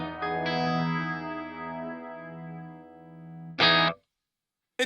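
An electric guitar played dry through a Walrus Audio Ambient reverb pedal: a sustained chord rings and slowly decays, then a short strummed chord is cut off abruptly, leaving silence before a final brief stab.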